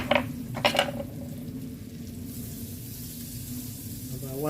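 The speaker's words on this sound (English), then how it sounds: "about 1 tablespoon of butter goes in the pan" Butter sizzles steadily in a hot pan while potatoes are roasted on the stovetop, with a couple of sharp clinks early on and a continuous soft frying hiss throughout.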